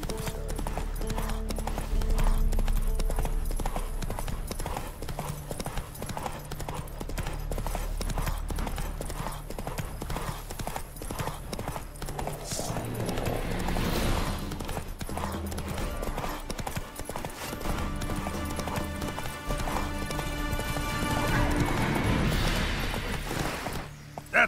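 Roach, Geralt's horse in The Witcher 3: Wild Hunt, gallops with rapid, rhythmic clip-clop hoofbeats that stay loud and close throughout, under busy battle noise with occasional crashes and a brief whinny.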